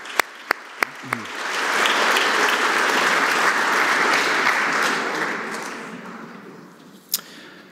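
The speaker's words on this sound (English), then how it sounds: "Let's give all of them another big round of applause" An audience in a hall at an AI Week opening ceremony bursts into applause after a few sharp isolated claps, swelling into a full round that tapers off, with one last loud clap.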